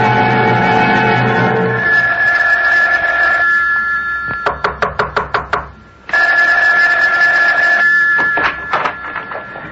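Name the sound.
telephone bell ringing in radio drama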